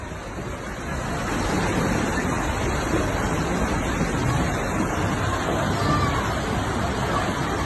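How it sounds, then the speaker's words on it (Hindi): Tsunami surge pouring into a city after an earthquake in the Aegean Sea near Turkey and Greece: a loud, steady roar of rushing water and churning surf with a faint crowd murmur beneath. "लहरें बेकाबू होकर के सुनामी का रूप लेकर के शहर में दाखिल हो गई।"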